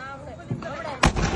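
A sharp, loud bang of a Diwali firecracker that shoots upward and bursts, with a smaller pop just before it, heard over people talking.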